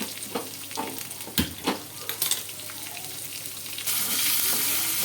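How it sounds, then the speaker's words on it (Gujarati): Mustard seeds, cumin, curry leaves and chillies crackle in hot oil while tempering for Gujarati patudi: a few sharp, close pops at first, then a louder, steady sizzle that swells near the end. "સારી રીતે કકડવા દઈશું"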